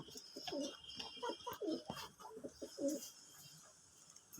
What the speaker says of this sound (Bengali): সব রানিং কবুতরে